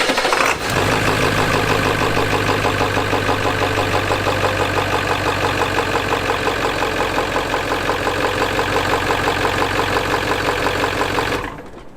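Ford 7.3 diesel truck engine cranking and catching almost instantly, then settling into a loud, close, rattly idle that runs steadily before cutting off near the end.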